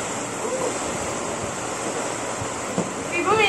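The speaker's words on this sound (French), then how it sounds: "C'est beau, mais il y a du vent." Wind blows outdoors in a steady, broad rush, buffeting the microphone, with a brief thump and a burst of voice-like sound near the end.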